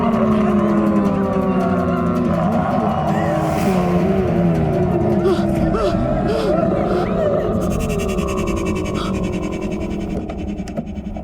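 A car engine revs and the car pulls away, a steady loud drone with rising and falling pitch that fades toward the end, heard under shouting voices in a Hindi horror drama episode.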